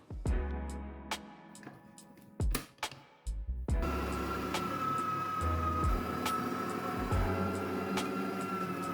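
An electric meat grinder works through chunks of pork. A few sharp knocks and clicks come first, then the motor settles into a steady, fairly loud whirring drone.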